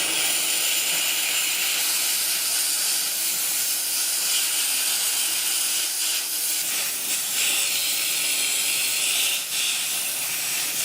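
A handheld household steam cleaner blasts steam at stains, a loud continuous hiss held steadily throughout at close range.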